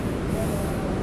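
Steady broadband rumble of a Jabodebek LRT light rail train in motion on a trial run, a continuous low roar with hissing highs, heard from inside the car.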